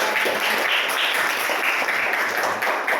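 A classroom of students claps in a dense, steady burst of applause that holds evenly for a few seconds.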